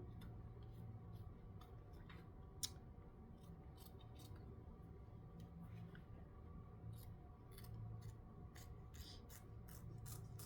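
Scissors snip through appliqué fabric on a shirt, producing faint, scattered ticks and crisp cuts over a low background hum.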